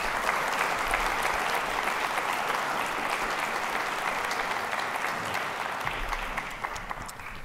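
Sustained audience applause welcoming Dr. Vali Nasr to the stage at a foreign policy talk in Houston, a dense, steady wash of clapping that holds for the whole stretch and tapers slightly at the end.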